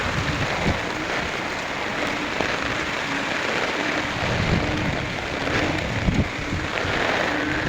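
Heavy rain pours steadily onto a surface during flooding on a street in Imus, Cavite, Philippines, a dense constant hiss with occasional louder drips and thuds.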